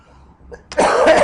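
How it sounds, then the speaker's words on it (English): A single sharp cough bursts out loud and close after a quiet moment, with a short rough rasp trailing off. "Excuse my coughing."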